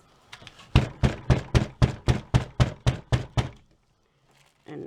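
A soap mold banged down on a table during soap making, about a dozen loud, close, hollow thuds in a quick even rhythm, followed by quiet.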